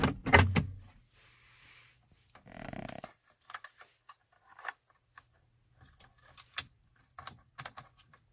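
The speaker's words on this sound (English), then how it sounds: "Then once those two are in with a nice clicking sound, we're going to start off by connecting the left side of this module." Plastic connectors on a Mercedes stereo module snap into place with a series of small, close clicks and taps, scattered irregularly after an initial louder handling rustle.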